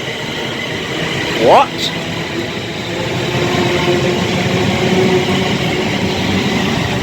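A train pulls out of Rugby station, its low rumble building steadily and filling the platform after a brief rising squeal, with a voice briefly heard nearby.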